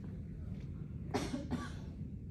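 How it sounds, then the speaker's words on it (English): A person does a postural drainage airway clearance exercise, taking a big breath in and then giving two sharp, close coughs in quick succession over a quiet background. "can you finish this off with a big breath in and a cough?"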